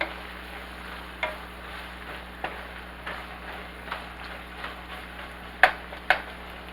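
Carrots and celery tumbling into a pot of hamburger stew and stirred, with soft scraping clatters and a few sharper utensil knocks over a steady low simmering background.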